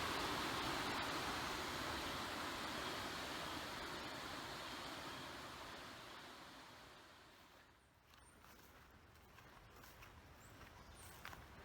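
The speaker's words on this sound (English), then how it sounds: "There's a couple of nice little waterfalls that come through here." Small waterfalls along the Chattahoochee River, a steady broadband rush of falling water that is loud at first, fades gradually, then drops off sharply near the end, leaving a fainter wash with a few light ticks.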